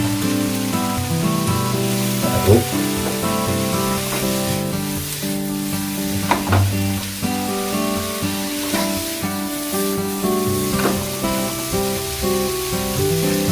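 Steady sizzling and crackling of tofu frying in butter in a hot pan, with occasional louder spits and pops throughout, no talking.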